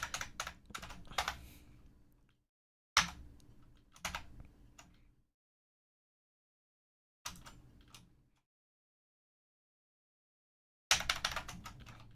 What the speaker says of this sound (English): But I do have the click-clackiest keyboard for this reason.